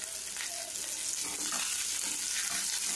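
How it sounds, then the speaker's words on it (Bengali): Bottle gourd with onion and a little turmeric frying in a pan, a dense, steady sizzle with soft stirring scrapes, close and continuous throughout. "এবার আমি ওটা ভালো করে ফ্রাই করে নেবো একসঙ্গে।"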